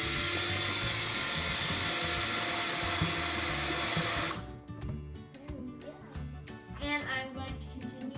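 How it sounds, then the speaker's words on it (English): A step drill bit bores a hole through the bottom of a plastic bucket, giving a loud, bright, continuous whine for about four seconds before cutting off abruptly, followed by quieter handling noise. "I'm using a step drill bit because it's just going to make a bigger hole."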